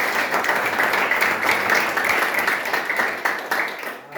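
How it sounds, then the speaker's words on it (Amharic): An audience claps in sustained, dense applause that stays loud and steady for several seconds before easing slightly at the end. "ተነጋግራችሁ እስቲ አጨብጭቡ"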